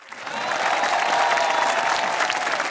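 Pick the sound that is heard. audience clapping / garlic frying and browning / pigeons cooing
audience clapping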